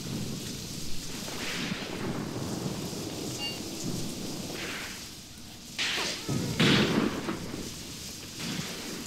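A heavy rainstorm in the war game Graviteam Tactics: Mius Front pours steadily while thunder rumbles, with loud cracking bursts of thunder striking near the end over the constant hiss of rain.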